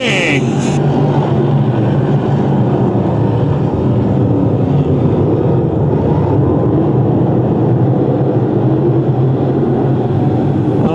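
Stock cars race in a pack around Fonda Speedway, a dirt oval, their engines a loud, continuous broadband roar that fills the whole stretch without letup.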